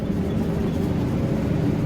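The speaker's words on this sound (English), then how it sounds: "That's the sound of me using this transmission for engine braking going down a steep hill." A bus with an Allison AT545 transmission engine braking down a steep hill, a steady low droning engine rumble that holds at even loudness throughout, with no talk.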